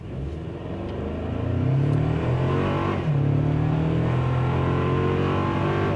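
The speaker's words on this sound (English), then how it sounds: "we'll just floor it this time from a stop." A 2024 Toyota Tacoma SR5 pickup truck is floored from a standstill in two-wheel drive, its engine droning up through the revs in a rising full-throttle pull with a brief dip at a gear change before climbing again.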